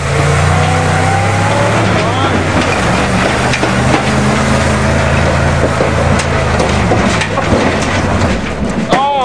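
A 427 Chevy dump truck engine labors loudly up a steep hill on a farm, a heavy sustained roar with shifting pitch, while excited voices shout over it and occasional knocks and clatters break through.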